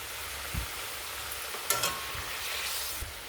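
Paneer and potato curry cooks in a pan after garam masala powder and ghee go in, a steady close sizzle with a few dull knocks and scrapes of a spoon stirring.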